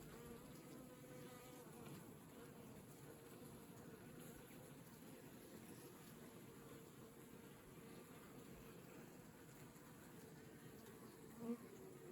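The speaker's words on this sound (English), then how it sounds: "There's bees along this side, right against the wall." Honey bees in a winter hive drone in a dense, steady buzz throughout, the combined hum of many insects crowded on the frames and against the hive wall, close and continuous with one brief sharper sound near the end.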